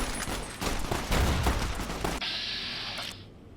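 Gunfire in Fallout: New Vegas, a fast, loud burst of repeated shots for about two seconds, followed by a quieter steady hum with a high electronic tone.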